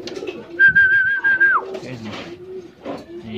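Pigeon with off-colour plumbage, handled at night, giving soft close coos in short bursts, with a clear sustained whistle-like tone early on and faint background voices between calls.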